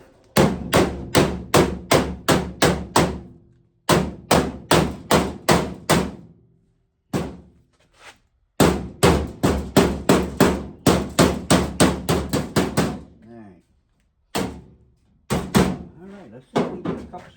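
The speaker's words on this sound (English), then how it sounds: "I want to try to get some screws in here." Screws are driven into a floor during installation, heard as loud, sharp, hammer-like blows in quick rhythmic bursts of four to eight strikes, separated by short pauses and a few isolated knocks.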